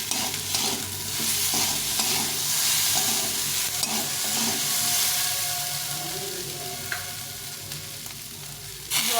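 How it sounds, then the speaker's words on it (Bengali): Ginger paste is stirred and fried in a pan, with a continuous sizzle and repeated scraping strokes of a spoon close by, and no talking. "আদাটা একটু বেশি দিলাম দিয়ে দেখে ভালোভাবে ভেজে নিতে হবে"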